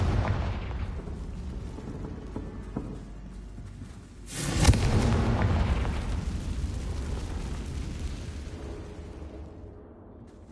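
Confringo blasting spell in Hogwarts Legacy, a sudden loud burst partway through that swells into a long, rumbling roar of fire and debris, fading slowly over several seconds after a quieter ambient stretch.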